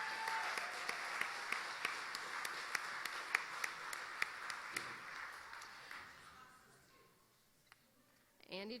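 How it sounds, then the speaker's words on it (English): Audience applause at a school fun show, a dense patter of clapping with sharper individual claps that fades out toward the end, followed by a brief noise. "So let's give them a round of another applause."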